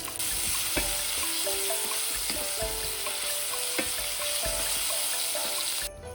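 Thinly sliced onions frying in sunflower oil for Kolkata Chinatown-style vegetable chowmein, a steady broadband sizzle with scattered crackles and occasional spatula taps against the pan, close and continuous.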